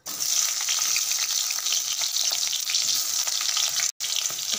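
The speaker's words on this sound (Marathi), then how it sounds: "आणि त्यामध्ये टाकणार आहेत कांदा।" Chopped onion sizzles and fries steadily in hot oil in a kadhai (wok) on a gas stove, a loud, continuous crackling hiss with one brief break near the end.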